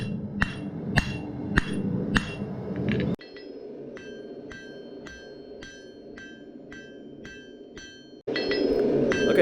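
Hammer blows on a farrier's rasp being tapered at the forge for a wrap-style tomahawk: a few heavy strikes, then a steady run of lighter ringing metallic taps in even rhythm, close and without speech.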